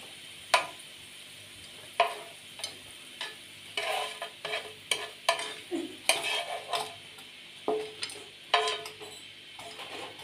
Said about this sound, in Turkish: Şu biberleri de atayım. İçinde kızarsın arkadaşlar.